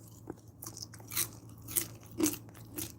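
Crunchy chips being bitten and chewed close to the microphone, four or five distinct crisp crunches spaced about half a second apart over a quiet background.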